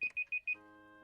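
A laundry appliance alarm beeps four times in quick, evenly spaced high tones, then lets out a single sustained electronic chime that rings on and fades, heard close and alone.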